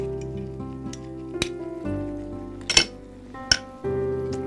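Yogurt goes into a sizzling pan and is stirred, giving a soft steady sizzle with a few sharp clinks and scrapes from the spoon over a constant tonal background hum.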